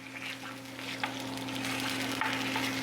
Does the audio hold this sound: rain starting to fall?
no